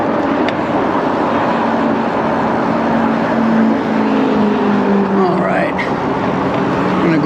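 Freeway traffic rumbles overhead and nearby as an XPeak 2.0 e-bike rides beneath, a steady loud wash of passing cars with wind noise, and someone talks over it.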